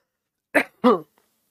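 Two quick, harsh coughs close to the microphone, the second deeper and throatier, with silence around them.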